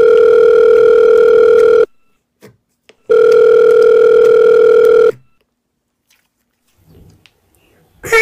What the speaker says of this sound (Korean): 그럼 먼저 과거의 나에게 전화 걸어볼게요.